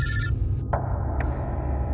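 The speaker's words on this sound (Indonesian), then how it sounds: "handphoneku berdering." A mobile phone rings with a short bright ringtone burst, followed by two faint electronic blips against a steady low hum, close and clear without any talking.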